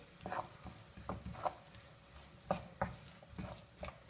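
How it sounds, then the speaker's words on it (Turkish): A spoon stirs a spiced tomato filling with black pepper, thyme and chili flakes in a frying pan, soft scraping strokes and irregular clicks against the pan over a faint steady sizzle, close and quiet. "Tekrar karıştırıyoruz."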